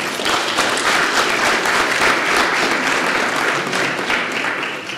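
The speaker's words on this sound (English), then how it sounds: "Please give them a round of applause." Dense, sustained applause from a large audience at a symposium, honoring returning students, loud and even for the full five seconds with no speech over it.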